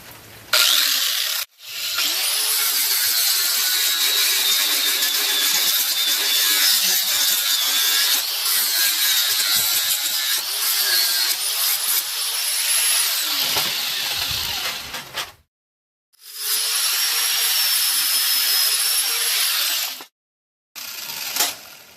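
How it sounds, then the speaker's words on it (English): Power tool grinding off the handle of a butcher knife: harsh high-pitched continuous grinding runs for long stretches, broken by a couple of short pauses before resuming. "so I'm gonna grind this off right here"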